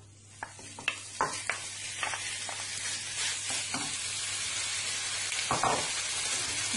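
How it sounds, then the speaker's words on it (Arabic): Chicken breast drops into hot oil in a pan and sizzles steadily, with a few sharp crackles and spits at the start and a constant frying hiss throughout, and no voices. "هنا درت الزيت شويه سخنات وغادي نخوي عليها داك الصدر ديال الدجاج"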